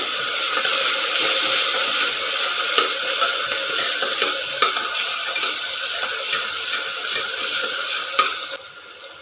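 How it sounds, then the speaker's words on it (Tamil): Onion and tomato frying in a pan, a loud, close sizzle with repeated scraping and stirring strokes throughout, ending abruptly, with no talk. "தக்காளி பழத்தையும் நான் சேர்த்துட்டேன். வதக்கி விட்ருவோம்"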